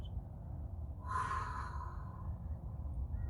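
One soft, drawn-out exhale is breathed during a guided grounding meditation, faint and alone over a low steady hum.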